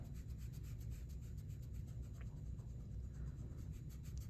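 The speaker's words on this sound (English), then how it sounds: "I can erase this line right here, like so" Steady pencil eraser rubbing over paper, a continuous close scrubbing texture with soft rhythmic strokes, alone without any talk.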